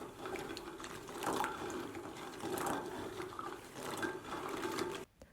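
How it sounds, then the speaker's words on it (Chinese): Chestnuts being rinsed by hand in a bowl of water, a steady close-up sloshing and rubbing that swells and eases in repeated waves, with no one speaking. "把板栗反复的清洗干净"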